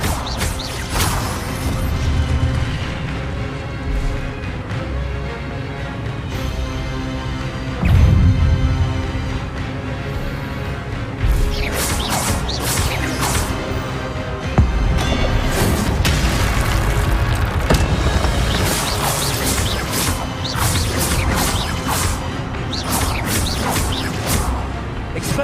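Spell combat in the Hogwarts Legacy PC game: loud, dense booms, crashes and bursts follow one another over a continuous music-like bed, with sharp impacts breaking through at intervals.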